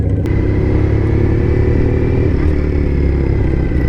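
A Thruxton motorcycle engine drones steadily and loudly while riding, a continuous low rumble with wind noise and no speech.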